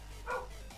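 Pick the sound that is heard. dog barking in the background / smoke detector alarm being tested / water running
dog barking in the background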